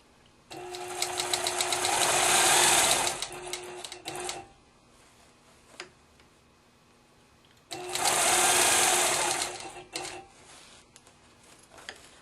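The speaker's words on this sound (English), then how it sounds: "I'm just going to use my straight edge and stitch in the ditch right on top of my previous stitching" A sewing machine stitching in the ditch on a pumpkin seed quilt runs in two bursts of rapid whirring stitches, each about three to four seconds long, separated by quiet pauses with small handling clicks.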